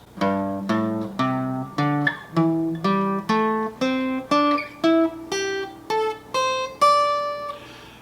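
A guitar plays a rising sequence of single picked notes, about a dozen evenly spaced, each ringing briefly, with no voices.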